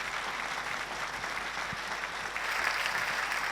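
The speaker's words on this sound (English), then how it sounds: "Can we please give our panellists a big warm round of applause?" An audience at a festival panel session applauds the panellists, with steady clapping throughout at a moderate distance that swells slightly louder toward the end.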